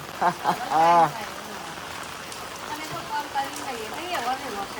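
Steady rain falls outdoors in a continuous, even hiss while people talk and play in the downpour, with voices clearest at the start over the constant patter.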